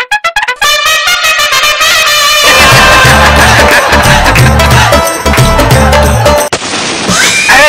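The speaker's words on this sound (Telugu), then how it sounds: "మన దీపావళి తెచ్చిన బాంబులు కాల్చుకుందాం అక్క." Diwali firecrackers going off in quick succession at a festive gathering, a dense run of loud bursts and pops that merges into a sustained crackling barrage before stopping abruptly.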